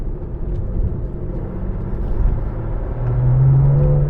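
A Porsche 964 fitted with a new slave cylinder drives along, its engine a low, steady rumble that climbs in pitch and loudness toward the end as the gears are worked through, heard from inside the car.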